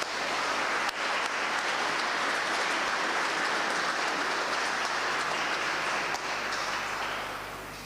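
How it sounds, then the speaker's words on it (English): An audience at an awards ceremony in a town hall applauds continuously, a dense, even wash of clapping at moderate loudness that holds steady and tapers slightly at the close, with no talk over it. "Please can I have a round of applause?"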